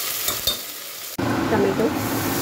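Ginger garlic paste hits the pan with an abrupt burst of loud sizzling, then keeps frying and crackling as it is stirred around, close and busy.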